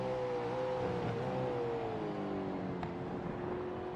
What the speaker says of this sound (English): Through the gears, and you can see that engine just detonating.